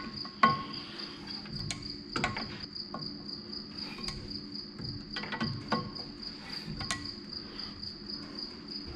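Crickets chirp steadily outdoors beside a 1951 Chevrolet farm truck, a constant high trill with scattered clicks and knocks of tools nearby.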